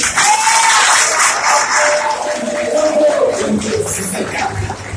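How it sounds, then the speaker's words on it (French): Audience applause and crowd noise fill a political party meeting in Haiti, loud and sustained, with some voices mixed in under the clapping. "Wilson Naviolet, les amis applaudis."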